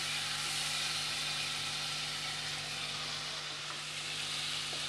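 Potatoes frying in a pan for a Bengali cucumber curry just after a spoonful of water goes in, giving a steady, dense sizzle and hiss that holds level and unbroken with no voices.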